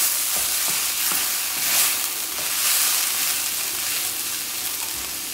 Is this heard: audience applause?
no